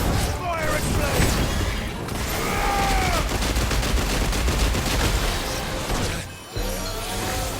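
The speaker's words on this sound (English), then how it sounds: "Fire explode!" Fire explosion attack in Final Fantasy XVI: rapid crackling blasts and booms roll on continuously at close range and loud, with brief voices calling out over the battle noise.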